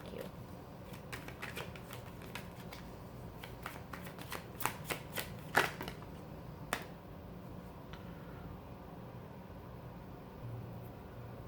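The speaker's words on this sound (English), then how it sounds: "So I'm going to get the cards out" Tarot cards being shuffled by hand, a quick patter of crisp card riffles and snaps that clusters in the middle of the clip and then tapers into a quiet room tone, with no talking.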